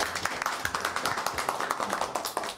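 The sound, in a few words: audience applause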